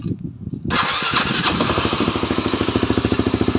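A Honda Sonic motorcycle fitted with a CB150 engine cranks briefly and fires up, then settles into a loud, steady, rapidly pulsing idle close to the microphone.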